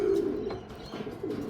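Racing pigeons coo in a few soft, throaty bursts close by, with no talking, over a short quiet stretch near a loft.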